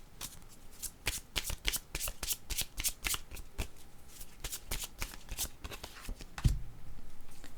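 Playing cards shuffled by hand at a card reading, with repeated sharp riffling bursts in quick succession, close up, ending with a soft thump and a quieter stretch.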